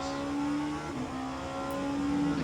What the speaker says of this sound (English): I keep hearing the cars.